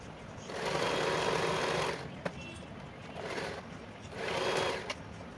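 Sewing machine stitching the folded inner edge of a lining blouse, running in two steady bursts of whirring stitches separated by a short pause, close and clear with no talk.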